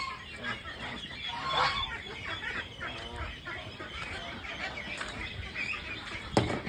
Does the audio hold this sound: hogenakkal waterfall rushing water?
no